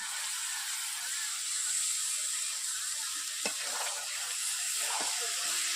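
Boiled young jackfruit and potato sizzling steadily in a full pan of hot oil, a continuous bright frying hiss with a couple of faint clicks from a spatula stirring.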